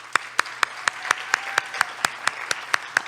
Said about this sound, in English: I'd love to give a round of applause to Maya.